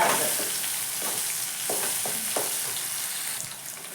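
Green chilies and dry spices fry in hot oil in a pan for a Kannada-style udad dal raw mango chitranna, giving a steady, loud, close sizzle with a few soft stirring scrapes and no talking.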